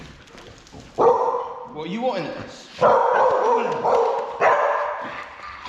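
A dog gives a few close barks and yips mixed with whines, while a person speaks nearby.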